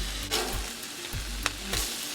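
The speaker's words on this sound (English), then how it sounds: "Cook some Bootleg bacon." Turkey bacon sizzles steadily on a flat-top Blackstone griddle, with a continuous near hiss and occasional sharper pops and scrapes, and no voices.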